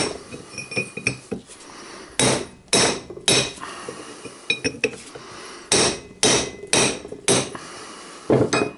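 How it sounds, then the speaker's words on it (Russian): A hammer strikes a large chisel to knock out the hub bearing of a Kia Ceed, with loud, ringing metallic blows in irregular bursts, close by and without talk. "Сбиваем мы зубилом, большим зубилом вот таким. Бьем прямо вот сюда."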